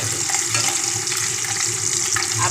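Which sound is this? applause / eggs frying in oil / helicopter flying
eggs frying in oil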